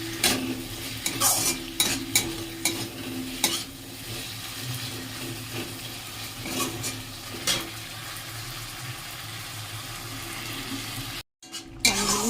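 Vegetables and bori sautéing in a pan: a low, steady sizzle broken by intermittent spatula scrapes and clinks against the pan, close and moderately loud, with a short dropout near the end.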